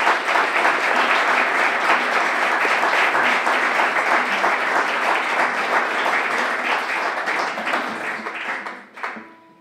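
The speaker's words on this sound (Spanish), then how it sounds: "quería pedirles un escandaloso aplauso para él" Audience applause after a guitar quartet's concert piece, a dense, steady wash of many hands clapping for about nine seconds before tapering off at the end.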